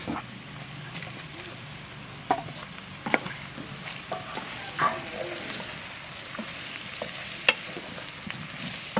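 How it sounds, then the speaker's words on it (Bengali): Onions and capsicum sizzle and fry in an open pressure cooker, a steady hiss with scattered sharp stirring clinks and scrapes at close range, no voices. "পেঁয়াজটা দু তিন মিনিটের মতো ভেজেছি"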